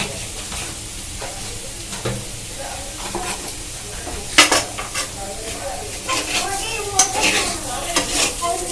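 Samosa filling stirred and fried in a pan, with a steady sizzle under repeated spatula scrapes and clinks that grow busier and louder toward the end, close by with no talking.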